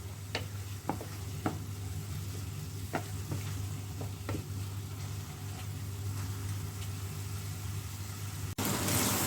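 Mushrooms sauté quietly in a pan for a cheesy tortelloni dish. A soft, continuous sizzle is broken by scattered clicks of a spoon against the pan, and a sudden louder burst comes at the very end.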